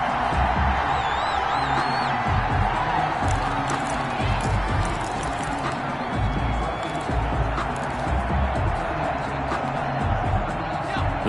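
A stadium crowd roars in a PS4 American football video game featuring the Steelers, a dense steady wash of cheering and murmur with faint whistles, continuous and loud.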